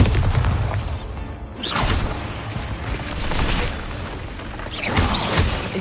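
Explosion spells such as Bombarda go off in Hogwarts Legacy, with several booming, crackling bursts at uneven intervals over a constant rumbling game backdrop.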